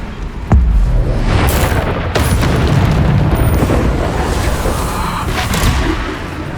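A Bombarda explosion spell in the video game Hogwarts Legacy goes off as a sudden loud boom, then a sustained rumbling blast that fills the rest of the clip, close and with no voices.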